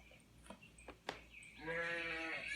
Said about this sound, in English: And the sound of the lamb. Listen.